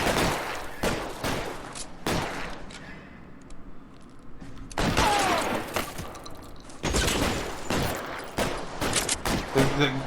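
Gunfire in L.A. Noire cracks out in sharp, loud bursts. Rapid volleys come in clusters with a short lull midway, and a faint voice runs under the shots.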